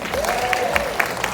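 An indoor audience at a fitness talk answers with scattered claps, several separate hand claps spread across a second over a faint hum and a brief voice.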